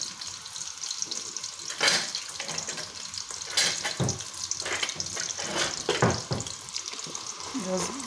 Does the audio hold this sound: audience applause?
no